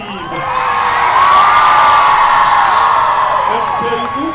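A large outdoor crowd at a memorial parade screams, whoops and cheers in one sustained roar, loud and close, with children's shrieks rising through it.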